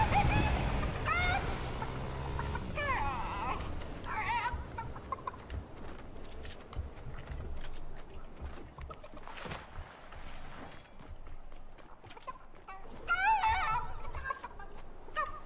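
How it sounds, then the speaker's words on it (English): Chickens clucking in the video game Fortnite, a few faint scattered clucks and squawks over a low background rumble with brief chirpy bursts. "There's three chickens here."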